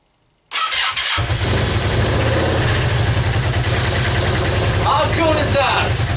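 A Yamaha Virago XV535 motorcycle engine cranks and catches, then settles into a loud, steady, throbbing idle close by, with brief human voices over it near the end.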